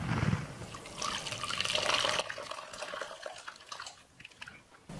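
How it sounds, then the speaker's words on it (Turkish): Liquid whey pours and splashes as homemade cheese is strained through cheesecloth in a wire sieve, a loud gush that eases into quieter trickling and dripping, no voices. "Ardından bir tel süzgecin içine bir tülbent yerleştiriyorum. Ve yaptığımız peyniri süzüyoruz."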